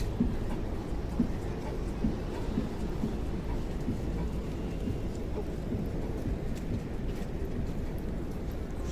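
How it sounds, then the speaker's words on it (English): A Tachikawa monorail train rumbles past in Tokyo, a broad steady roar that fills the whole stretch at close range, with a voice talking faintly underneath. "Monorail again."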